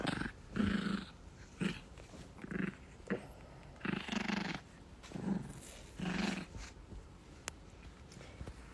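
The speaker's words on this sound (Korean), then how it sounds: "들리시죠? 그르렁 으르렁 소리." A dog growls and purrs in rumbling bursts, close and fairly loud, with short pauses between each low throaty growl.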